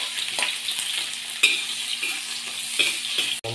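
Onions sizzle and fry in a large wok, a steady hiss with a few scraping stirs and one sharp clack near the end, close and fairly loud.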